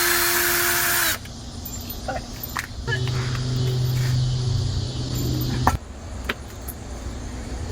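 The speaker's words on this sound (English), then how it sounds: "You gonna try to silence me out with the drill?" A loud power drill whines steadily for several seconds inside a house, then cuts off abruptly, leaving quieter background noise with a few scattered clicks.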